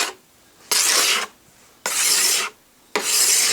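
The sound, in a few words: scraping wax off a snowboard base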